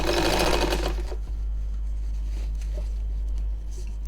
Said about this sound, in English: so we have sewn our elastic in place